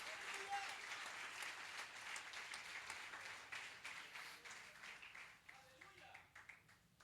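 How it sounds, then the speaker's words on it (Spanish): A church congregation at an anniversary closing service claps and applauds in sustained praise, a dense wash of hand claps that gradually thins and fades toward the end. "Dele fuerte esa ofrenda de palmas"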